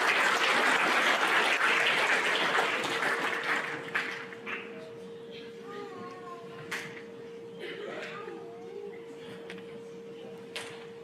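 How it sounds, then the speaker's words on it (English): Audience clapping at a school eighth-grade awards program, a dense burst of applause that fades after a few seconds into scattered claps and room noise, with a steady hum underneath. "A round of applause for our"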